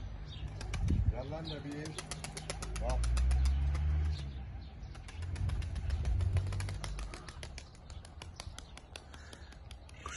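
Pigeons in a loft shuffle and flap their wings in quick rustling bursts close by, with someone speaking over the activity.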